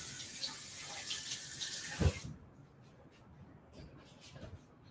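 A kitchen tap runs steadily while shrimp are washed for buffalo shrimp tacos, a hissing stream that stops abruptly after about two seconds, leaving faint handling sounds.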